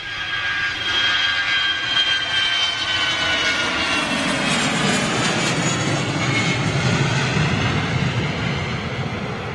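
A large jet airliner at Manchester Airport, heard as a steady, loud roaring engine rush that lasts throughout without breaks and with no talk over it.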